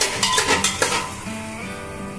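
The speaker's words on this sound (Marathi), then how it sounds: "कांदा भाजूपर्यंत आपल्याला हा तेलामध्ये भाजून घ्यायचा आहे" Onion frying in oil in a pan for a Marathi-style pulao, a soft steady sizzle with a few scraping stirs and clinks of a utensil against the pot near the start, close by and without talk.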